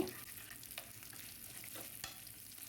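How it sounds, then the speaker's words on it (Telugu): Asafoetida, fenugreek seeds, dried red chillies and curry leaves sizzle steadily in hot oil over a low flame, a continuous crackling hiss broken by a few sharp stirring scrapes. "బాగా లో ఫ్లేమ్లో అన్ని బాగా వేగేటట్టు కరివేపాకు వేసుకుని వేయించుకొని"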